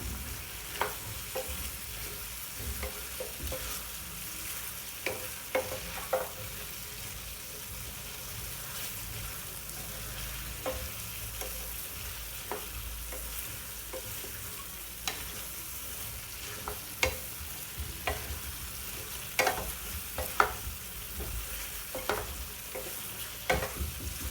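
Potato pepper fry coated in masala is stirred in a pan over a low flame, a spoon scraping in steady repeated strokes over a soft continuous sizzle, close and moderately quiet, with no voices.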